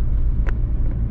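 A car drives along a road in Batam, a steady low engine and road rumble close by, filling the whole moment without talk.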